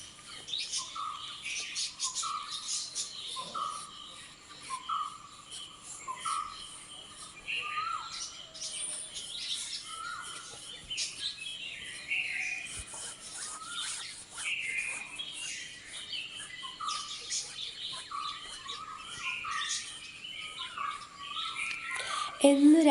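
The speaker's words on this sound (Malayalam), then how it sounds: "കിളികളുടെ സൗണ്ട് കേൾക്കുന്നുണ്ട്, കിളികളുടെ നല്ല സൗണ്ട് കളകളാരവം കേൾക്കുന്നുണ്ട്" Small birds chirping and singing in the morning in a rural Kerala village, scattered light calls from several birds at a moderate distance, with a brief louder squawk near the end.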